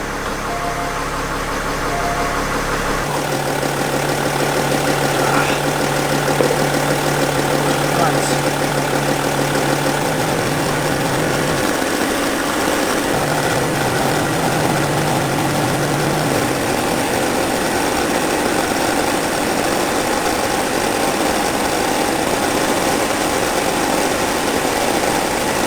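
A Porsche Cayenne 3.0 TDI diesel engine idles in gear with a steady, close hum, its tone shifting slightly as the transmission is worked through the gears.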